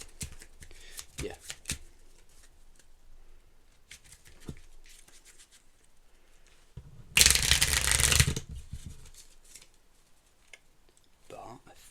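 A deck of playing cards is shuffled by hand, light flicks and taps at the start, then one loud dense riffle burst lasting about a second, with soft handling noises around it.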